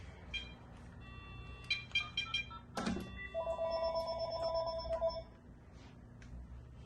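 A telephone bought at a thrift store rings in a quiet room with a run of bright electronic chirps and trilling tones, a short burst followed by a sustained ringing pattern.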